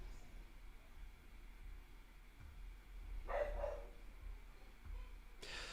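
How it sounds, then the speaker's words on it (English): A dog indoors barks to be let outside, a few faint, distant barks and yips over a low background hum, with no talk during them. "Sorry, I'm going to have to let this dog out."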